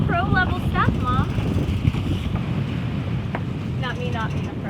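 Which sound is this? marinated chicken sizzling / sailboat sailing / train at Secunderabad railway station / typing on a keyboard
sailboat sailing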